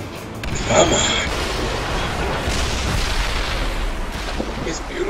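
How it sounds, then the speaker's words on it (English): Booming explosions in the video game Rogue Warrior, a loud blast near the start giving way to a sustained roaring, rumbling wash of detonations and debris. "It's beautiful. The explosions."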